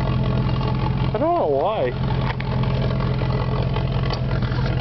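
A jeep engine runs loudly and steadily out of the tailpipe during ditch clearing, a constant low rumble throughout with a person speaking briefly over it.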